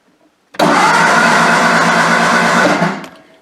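A Triumph Spitfire engine that has sat for a long time cranks over in one steady, loud burst of about two seconds, then stops abruptly and trails off, with no voices over it.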